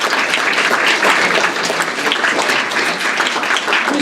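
A theatre audience at the Théâtre de la Reine Blanche applauds during the 2016 Prix Diderot award ceremony, greeting the theatre's director. The clapping is full and sustained, a close, even wash of many hands lasting about four seconds.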